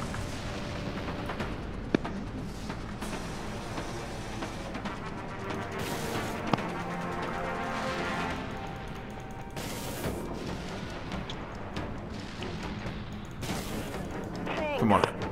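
Ship weapons firing in the space combat game Dreadnought, steady rumbling barrages with repeated heavy blasts throughout, partly under game sounds and chatter.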